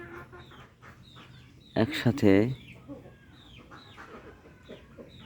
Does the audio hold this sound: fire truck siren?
no